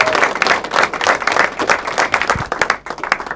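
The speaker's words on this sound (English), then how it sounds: "give a massive round of applause for your next act, Mr. Richard Porsford!" Loud, dense audience applause with cheering fills a comedy club crowd in Gateshead, continuous clapping rising and holding for several seconds before thinning slightly at the end.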